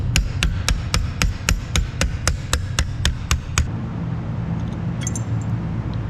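A hammer strikes a stainless steel wastegate pipe in a fast, even run of about thirteen sharp, ringing metallic blows, close and loud, then stops, leaving a quieter room hum.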